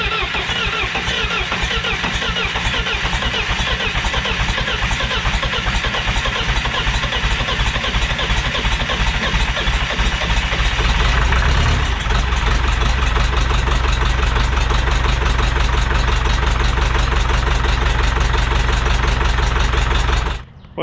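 A car engine runs steadily after a long cranking effort, a loud, continuous close idle with a slight shift in tone partway through.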